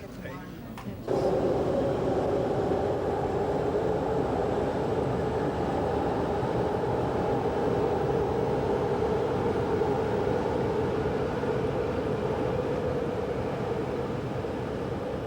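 A San Francisco BART metro train from 1989 rumbles steadily along the tracks with a constant droning hum, a voice talking over the noise.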